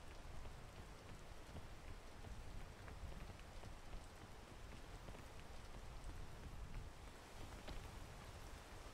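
Steady, dense rain pours down in the climbing video game Peak, a continuous hiss of drops spattering on surfaces that stays even and fairly loud throughout, with no voices.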